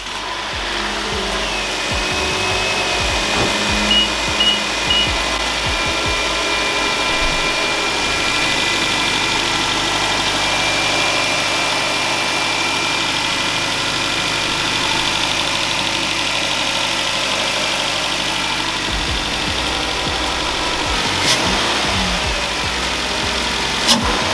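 A 2012 Nissan Altima engine idles steadily for a long stretch after start-up, a continuous mid-pitched hum with slight vibration and a faint rev near the end, no talking.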